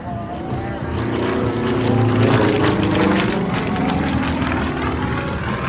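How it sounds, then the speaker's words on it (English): Yak-50 propeller aircraft flying aerobatics at the Cold Lake Air Show, its engine a steady loud drone with a rising and falling pitch as the plane snap rolls on a down line. "He'll reverse direction and now snap rolls the airplane on that down line."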